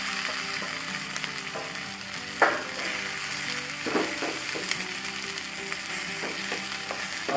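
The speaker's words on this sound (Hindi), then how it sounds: "टमाटर को धीरे धीरे आप चलाते रहेंगे" Tomatoes and capsicum sizzle gently in a pan while a spoon stirs them, with a soft steady frying hiss and occasional scraping clicks and knocks of the utensil against the pan.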